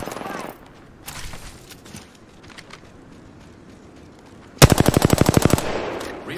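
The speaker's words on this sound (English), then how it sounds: "The enemies are shooting at me." Automatic gunfire in Apex Legends: a few scattered shots and distant bursts, then a loud, rapid burst of about a dozen evenly spaced rounds near the end, with quiet game ambience between.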